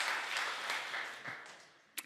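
A church congregation at a Sunday worship service gives quiet, distant applause that slowly dies away and ends with a single sharp knock.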